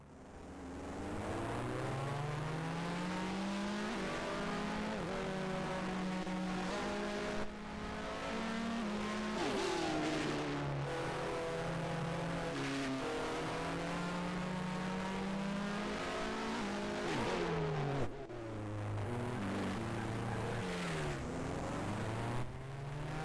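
Racing car engine from the Grand Prix 2 video game during a 1990 Spanish race, a loud continuous high-pitched whine that rises and falls with gear changes and revving, with no talk over it.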